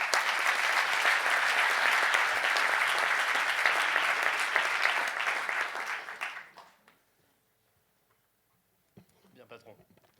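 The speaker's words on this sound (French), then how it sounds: "Quand même, on va l'applaudir." Audience applause at a university oratory competition final, a room of people clapping briskly for about six seconds before fading out into near silence, followed by brief faint movement sounds.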